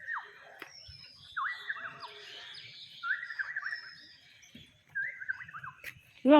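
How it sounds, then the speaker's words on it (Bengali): Several birds chirp and twitter in short bursts at a foggy picnic spot, some whistling calls rising and falling at a moderate distance, with quiet gaps between them. "ওই দেখো আসছে পাখিগুলো, ওই দেখো কতগুলো পাখি এসছে ওখানে।"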